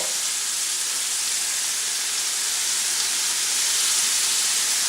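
Ribeye steak pieces searing in a hot pan, making a steady, loud, close sizzle with a broad hiss and no talking.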